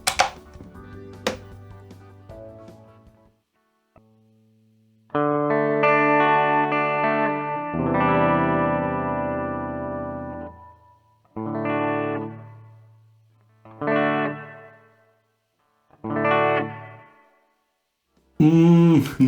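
An electric guitar runs through a Mooer GE150 multi-effects unit with reverb and distortion, playing separate chords and phrases with pauses between them, each ringing out into a reverb tail and falling away to silence.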